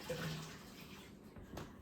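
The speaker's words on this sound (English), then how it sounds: "Let me wash my hands in my hot bleach soapy water." Hands splash and swish in a sink of hot bleach soapy water in a home kitchen, a close, soft sloshing wash that fades toward a quieter end.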